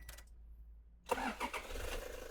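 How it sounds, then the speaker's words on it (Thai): Near silence, then the engine of a 2017 Toyota Ventury 3.0 G van cranks and catches at once, settling into a steady, smooth idle. "เดี๋ยวผมตาร์ทให้ฟังเสียงเครื่องนะฟังเสียงเครื่องนี่"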